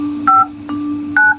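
A telephone number being dialed, three crisp DTMF tones, loud and close, each a short beep with brief gaps between, over a faint steady hum.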